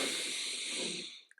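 A slow, steady breath drawn in through the nose during a calming breathing exercise, close and soft, a smooth airy hiss lasting over a second before tapering off.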